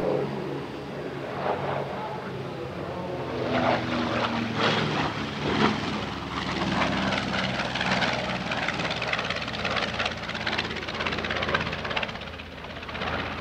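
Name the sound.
B-25 medium bomber propeller aircraft flying at airshow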